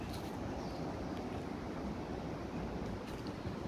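An outdoor breeze blows steadily in a fresh open spot in Taiwan, a constant broadband rush with wind buffeting the microphone and no talk.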